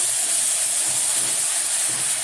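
Tripe sautéing in a pan, heard as a steady, loud, close hiss of sizzling steam with faint low stirring bumps underneath and no voices.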